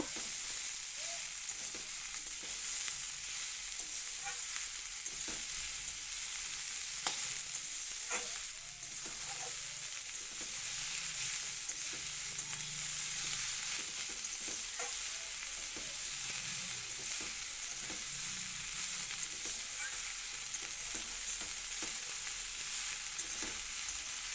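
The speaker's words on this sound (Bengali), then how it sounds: "ফুলটা দিয়ে নাড়াচাড়া করতে করতে ফুলটা কমে আসবে" Drumstick flowers fry in oil in a pan with a steady, dense sizzle that never lets up, broken by soft scraping as the flowers are stirred and turned.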